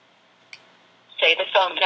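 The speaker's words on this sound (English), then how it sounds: "So I'm going to hit dial." A touch-tone phone auto-dials, giving a brief faint tick followed by a couple of close, clear dialing tones in quick succession.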